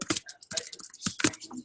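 Quick bursts of keystrokes on a computer keyboard, a short run of close, crisp clicks with small uneven pauses between them.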